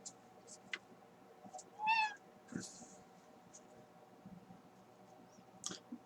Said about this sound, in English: This guy is a Norwegian forest cat.